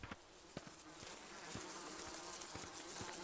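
Flies buzz persistently and faintly in a horror video game, a thin insect drone with scattered soft ticks and no talking.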